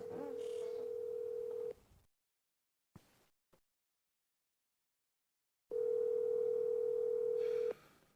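An outgoing phone call on speakerphone: a steady ringback tone rings twice, separated by a long silent gap with a couple of faint clicks, close and without talk.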